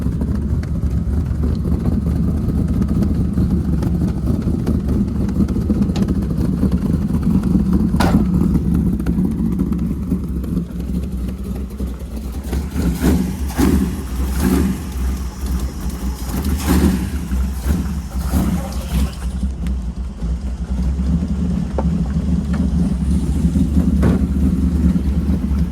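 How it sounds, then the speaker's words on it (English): A car engine fitted with a Spintech exhaust and X-pipe rumbles steadily at idle nearby, its deep, continuous drone holding throughout with slight swells in the middle. "Just thinking how it's gonna sound with an X-pipe and a Spintech on there."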